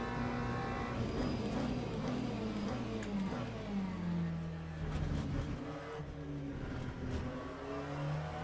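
A GT3 race car engine in the Le Mans Ultimate racing game revs and accelerates down a straight, its pitch climbing and shifting through gears at a moderate, steady level.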